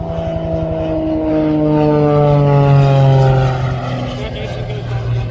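A propeller plane passes overhead at the 2023 Columbus air show, its droning engine tone loud and steady, then sliding lower in pitch as it moves away.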